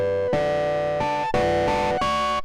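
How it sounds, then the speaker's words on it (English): Sustained keyboard chords with a gritty, distorted tone, changing about every half second in a short loud phrase. "then I had to put the distortion on it"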